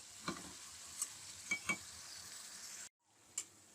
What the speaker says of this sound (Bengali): এখন এগুলোকে ভালোভাবে কষিয়ে নিতে হবে।